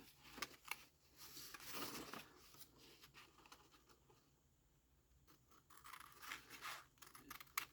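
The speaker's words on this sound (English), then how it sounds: "I'm going to try to make a neat cut along either side" Paper card for a handmade Father's Day card being cut with scissors along folded guide lines, giving repeated soft snips and papery scraping at close range with a quieter pause midway.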